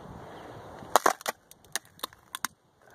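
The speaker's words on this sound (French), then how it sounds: "ça c'est le bruit de la glace" Ice cracking and crunching underfoot in freezing weather, a handful of sharp snaps and crackles heard close over faint background hiss.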